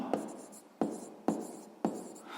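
Pen on paper records a math solution about a square's new side length, light continuous scratching punctuated by four distinct taps spaced roughly evenly, quiet and close with no speaking.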